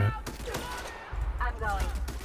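Several quick bursts of gunfire in the video game The Outer Worlds, firing in rapid volleys under overlapping in-game voices.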